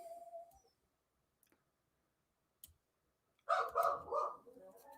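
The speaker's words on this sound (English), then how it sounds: "Oh, the dog is driving me insane right now." A dog barks in a quick burst of several loud, close barks near the end, after a stretch of near silence broken by a few faint clicks and a short murmur at the start.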